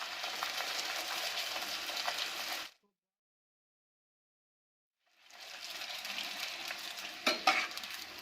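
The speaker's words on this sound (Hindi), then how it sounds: "अब इसमें हम भटूरा डालेंगे और इसको बीच में से प्रेस करेंगे हल्का।" Bhatura dough fries in hot oil with a loud, close, steady sizzle that cuts out to silence for about two seconds, then returns with a few sharper crackles near the end.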